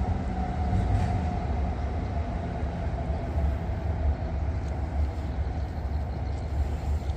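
A Kiha 183 diesel train passes the Bang Sue curve, its steady rumbling roll and rail noise sustained and fairly loud throughout with no voices.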